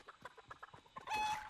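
Chicken clucking in the video game Fortnite: a quick string of soft, low clucks in an uneven rhythm, followed by a louder, brighter squawk at the end, close and quiet with no talking.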